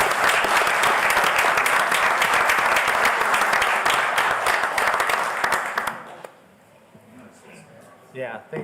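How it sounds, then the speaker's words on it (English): Applause at a city council meeting: steady, dense clapping from the room for about six seconds, then dropping off abruptly into quiet room tone with faint movement. "let's give them one last round of applause"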